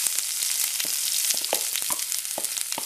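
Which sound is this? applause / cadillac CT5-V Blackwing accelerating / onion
onion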